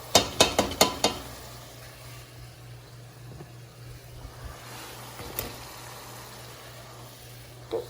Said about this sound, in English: Let's give it a little stir to make sure it's not sticking on the bottom.